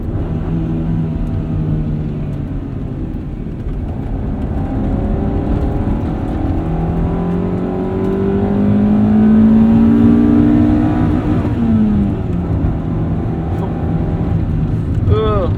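1995 Honda Civic Si engine revs up toward its rev limiter inside the cabin, a steady drone climbing in pitch with a brief bounce near the top, while a person talks over it.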